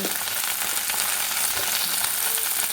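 Salted vegetables, potato and cauliflower, sizzle steadily in a hot pan for winter khichuri, a continuous close, even frying hiss with no talk.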